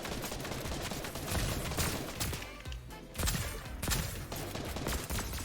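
Gunfire in the video game Fortnite: a dense, continuous stream of rapid shots and bursts, loud and close throughout, with no talking over it.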